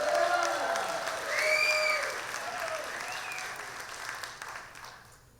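A rally crowd bursts into a round of applause, dense steady clapping with some cheering and whistles, loud and sustained before slowly tapering off.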